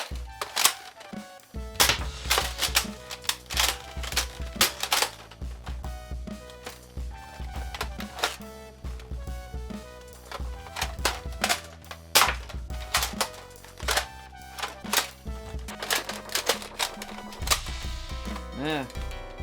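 Buzzbee Air Max Boss dart blaster loaded with Buzzbee darts from a Centurion magazine, firing a series of sharp, loud pops in quick irregular bursts, with mechanical clacks between shots and a faint voice near the end.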